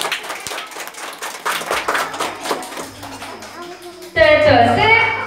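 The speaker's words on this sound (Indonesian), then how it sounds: "Tepuk tangannya dong untuk Nurul Falah" Audience clapping at a children's Quran school graduation celebration, a run of distinct, rhythmic claps that grows to a lively patter before a voice cuts in loudly near the end.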